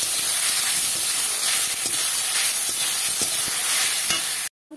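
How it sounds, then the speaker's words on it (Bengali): A potato and flour mixture is stirred in a hot frying pan, giving a steady sizzling hiss with soft, irregular scraping taps of the spoon, close and alone until it cuts off abruptly. "এবার এটা নাড়াচাড়া করে নেব।"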